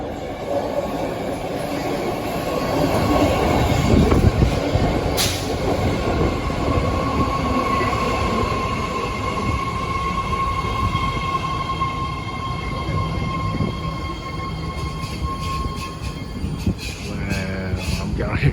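A BART 3-door Fleet of the Future train on the Green Line pulls into platform 2 at Lake Merritt station, a loud rumbling arrival with rising rail squeal and clatter near the end, no talking over it.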